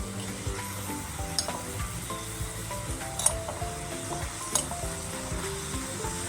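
Coarse ground masala sizzling and frying with dry prawns in a pan, a steady close crackle broken by occasional clinks and scrapes of a stirring spoon, with no voices.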